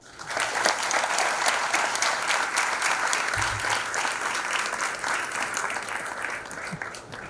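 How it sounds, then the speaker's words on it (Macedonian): An audience at a ceremony celebrating 76 years of the Faculty of Civil Engineering in Skopje gives a dense, sustained round of applause at a steady level for several seconds. "Со силен аплауз да ја поздравиме"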